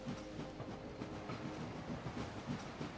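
Rumbling train sounds in the video game Anno 1800 roll along with a rhythmic clickety-clack, steady and fairly quiet, with no talking.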